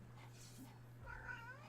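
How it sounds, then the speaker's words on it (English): A cat meows faintly, a short, wavering call of about half a second near the end, over a steady low electrical hum, while the player is in a game of ARK Survival Evolved. "Hi, cat."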